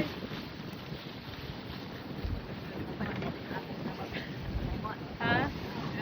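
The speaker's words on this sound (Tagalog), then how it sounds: "Sarap ng hangin" Wind rushes across open sea aboard a boat near a harbour, a steady broadband roar buffeting the microphone, with brief voices surfacing partway through.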